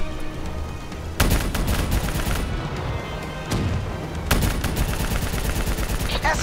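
Heavy gunfire in Call of Duty Black Ops 3 erupts in repeated loud bursts and sustained fusillades over a dense battle backdrop, with shouted voices faint in the mix.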